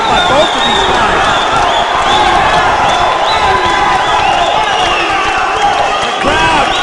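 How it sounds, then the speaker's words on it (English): A boxing crowd cheers and roars steadily, loud and close, urging on a fighter during a fight between Jenifel Vicente and Lucian Gonzalez, with a commentator's voice running over it. "The crowd urging on Vicente to try to get a knockout"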